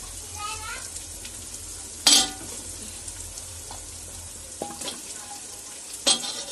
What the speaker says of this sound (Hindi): थोड़ा हरी मिर्ची को फ्राई होने देते हैं, और बटाटा जो काट कर रखी थी ये भी प्याज में फ्राई होने देते हैं।